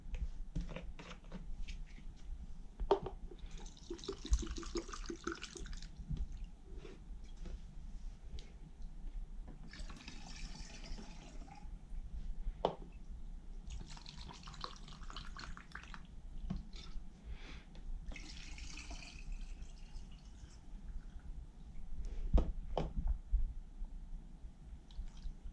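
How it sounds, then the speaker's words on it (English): Rubbing alcohol poured from a container into a homemade robot-mop cleaning solution, a soft liquid trickle that comes and goes in several short bursts of pouring, with light handling clatter and bumps between them. "And then 2 cups of rubbing alcohol."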